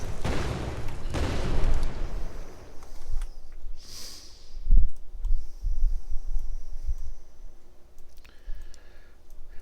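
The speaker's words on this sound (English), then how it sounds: "whenever I go in here, we hear a sound, and then we see the explosion" An explosion sound effect fires in an Unreal Engine 4 game scene, a loud opening burst and rumble that decays over a couple of seconds, followed by scattered quieter thumps and clicks against a low background.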